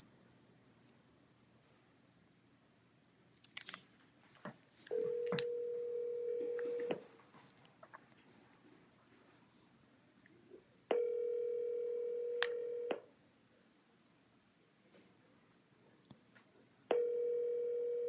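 Ringback tones for an outgoing phone call that goes unanswered, three long steady rings spaced about four seconds apart, with faint rustling and handling noises between them.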